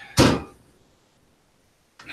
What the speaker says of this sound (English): I hear the dryer getting slammed.